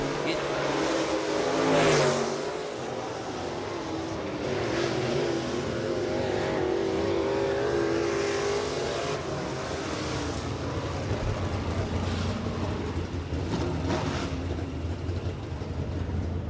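Modified race cars roar around the track at County Line Raceway, engines revving and droning steadily at close range throughout, with crowd or announcer noise blended in.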